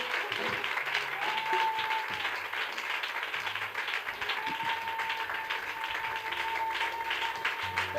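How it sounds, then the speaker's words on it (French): A church congregation applauds and cheers for Jesus, with sustained clapping from a crowd filling the room and a few voices calling out over it. "On acclame Jésus."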